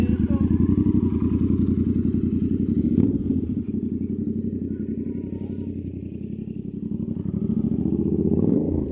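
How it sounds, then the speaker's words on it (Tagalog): Motorcycle being ridden, its engine thrumming in a steady low pulsing drone throughout, loud and close with a brief thump midway. "At pinadrive po yung motor ni Kalingap Rob"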